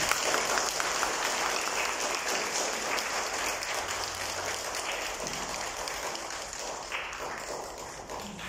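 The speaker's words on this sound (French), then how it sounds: "On applaudit." Audience applause at a book launch event in Mauritius, a dense, continuous patter of clapping hands from a crowd, steady and fairly distant, tapering slightly toward the end.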